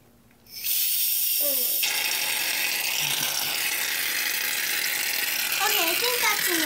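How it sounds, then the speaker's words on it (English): Shaving cream sprays from a can into a bowl of slime in a steady, loud, close hiss that starts suddenly and holds for several seconds, with faint voices heard beneath it. "Now we're going to start putting some shaving cream in."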